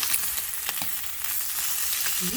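Fish fillet frying in a pan with browned garlic, a steady dense sizzle and crackle filling the whole stretch, close and even, with no talk.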